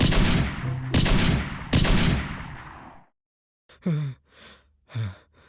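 Three loud gunshots in a Malayalam film scene ring out in quick succession, each with a long echoing decay, followed by a pause and then a person's short breathy groans.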